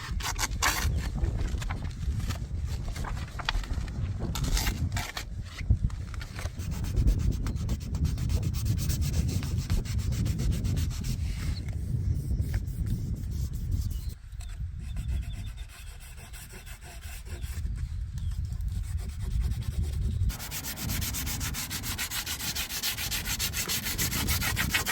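Rust on a Lada Niva is sanded by hand with 240-grit sandpaper, making a continuous close rasping rub in quick back-and-forth strokes that briefly soften midway before resuming at full strength.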